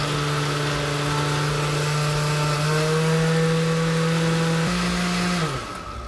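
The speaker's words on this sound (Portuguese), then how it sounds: "colocou todos os ingredientes, levar para bater uns 3 minutinhos" Electric mixer beating honey cake batter (pão de mel) with 40 grams of honey among the ingredients, a loud steady motor whine that holds its pitch for about five seconds before spinning down.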